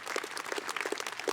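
Audience at a high school graduation ceremony applauding the band and choir, a steady wash of many hands clapping at moderate distance, brief and continuous with no voices over it.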